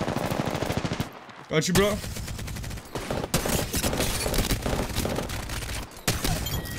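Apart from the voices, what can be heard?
Devotion LMG gunfire in Apex Legends video game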